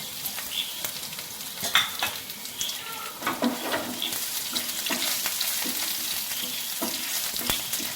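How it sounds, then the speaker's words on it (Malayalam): Mustard seeds, dried chili, sliced shallots and curry leaves sputtering in hot oil for tempering, with a bright continuous sizzle and repeated stirring clicks and scrapes of a spoon in the pan. "നമ്മുടെ കടുക് പൊട്ടി നമുക്ക് മുളക്, ചെറുള്ളി വട്ടത്തിലരിഞ്ഞത്, പിന്നെ കറിവേപ്പില."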